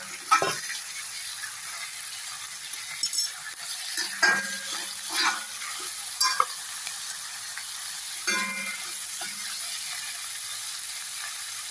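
Goat meat frying in a pan with ginger-garlic paste for a papaya mutton curry, a steady sizzle with a few scraping stirs, close and alone.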